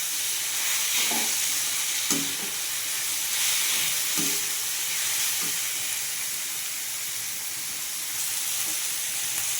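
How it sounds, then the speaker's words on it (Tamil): Onions and tomatoes sauté in a pan for a tamarind-free sundakkai kuzhambu, a steady close sizzle with faint clinks and stirring now and then, heard alone throughout. "வெங்காயமும் தக்காளியும் இப்போ நல்லா வதங்கட்டும்"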